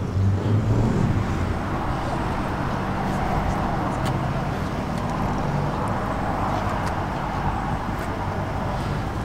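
An ERF E10 lorry from the mid to late 1980s gives off a steady, close diesel rumble that stays level throughout, with a brief swell at the start and faint outdoor noise around it.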